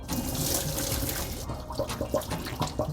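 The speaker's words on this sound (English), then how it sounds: "Just a quick blanch for about 30 seconds. And then we're gonna strain it." Blanched tofu is tipped into a strainer, water pouring and splashing steadily before breaking into a few uneven glugs and drips as it drains.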